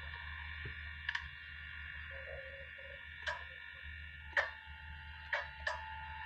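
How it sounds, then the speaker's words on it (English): A frog croaks in the video game Five Nights With Froggy 2, sharp, separate bursts at irregular intervals over a low, steady hum, with a few faint chirps in between. "I can hear him croaking in another room."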